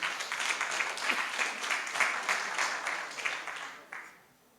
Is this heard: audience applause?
yes